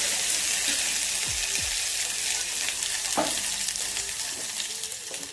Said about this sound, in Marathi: लसूण आणि कढीपत्त्याची जे आपण कुटून घेतलं ते टाकून घेऊया आणि असं परतलं